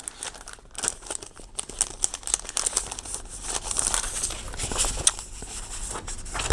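Sheets of vellum paper crinkle and rustle close by as they are handled, in irregular soft bursts with no talking.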